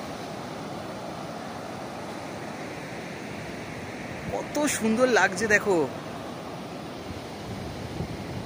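Sea waves wash onto the shore of Henry Island near Bakkhali as a steady broadband roar, with a brief louder surge of wind-blown noise midway while a person talks briefly over it.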